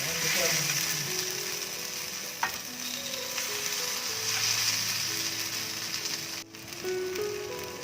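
Masala-coated raw banana pieces fry on a tawa with a steady, dense sizzle throughout, interrupted by a few clicks and scrapes as the slices are flipped, with one sharp knock near the end.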